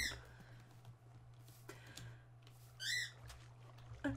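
A pet parrot gives a few sharp squawks and whistles in the background, faint and intermittent, with one clearer rising call near the end over a low steady hum and light clicking.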